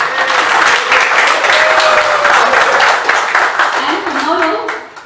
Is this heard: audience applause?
yes